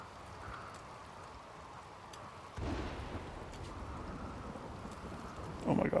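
Rain pours steadily in a Rimworld storm, a low rumble of thunder rolling in partway through and lingering under the downpour, with a louder burst near the end.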